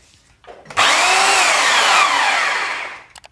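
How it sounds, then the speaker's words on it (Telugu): A rotary hammer drill set to drill-only mode spins up sharply into a loud, steady motor whine, holds for about two seconds, then winds down, with faint handling clicks before and after. "ఇప్పుడు మళ్ళీ ఓన్లీ డ్రిల్లో పెడదాం. అంటే సౌండ్ ఏ విధంగా వస్తుంది అంటే మనకి తెలుస్తుంది"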